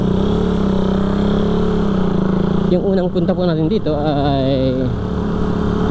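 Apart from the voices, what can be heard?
motorcycle engine while riding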